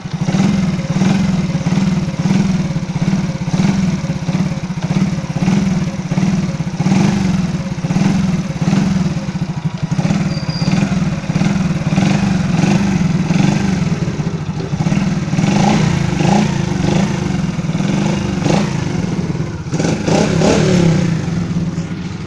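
Cold stock-bore 2007 Honda Wave 100 motorcycle engine idling roughly up close, with repeated short revs and uneven throttle blips throughout, loud and steady with no voices.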